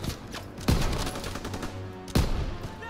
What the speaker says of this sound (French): Mitrailleuse au premier étage!